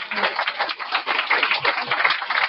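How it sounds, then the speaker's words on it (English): Audience applause at a general membership meeting, a dense, steady patter of many hands clapping throughout, fairly close and loud, with no break. "Let's give them all a round of applause."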